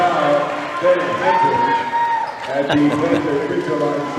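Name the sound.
basketball crowd cheering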